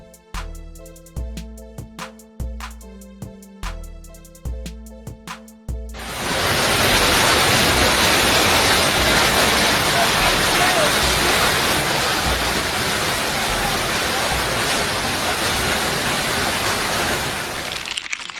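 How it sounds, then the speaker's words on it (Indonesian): A steady, dense roar of heavy hail pelting house roofs takes over after a few seconds of rhythmic music, continuing loud and unbroken to the end. "hujan es yang turun menimbulkan suara yang sangat mengerikan saat berbenturan dengan atap rumah"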